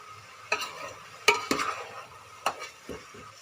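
Vegetables for a vegetarian khichdi are stirred in a frying pan, giving a few separate spoon scrapes and knocks over a faint sizzle, close up and fairly quiet.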